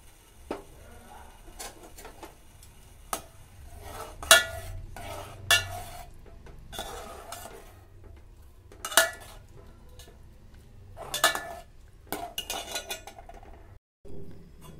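A spoon stirs a jelly mixture in a pot, making sparse metallic clinks and scrapes at irregular intervals over a quiet background, close and fairly faint, with no voices.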